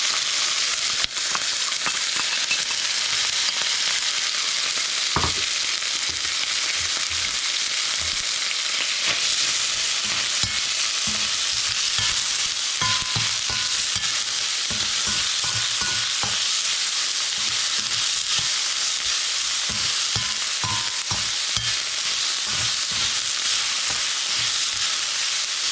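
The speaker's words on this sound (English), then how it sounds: "you just fry this up a little bit" Shrimp frying in hot oil in a karahi: a loud, continuous sizzle with frequent clattering stirs and spoon knocks, close and steady throughout, with no voices.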